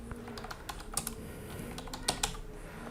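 Computer keyboard typing as job details are entered into a Wix web form: scattered quick key taps with a few louder clicks, close and fairly quiet, no voices.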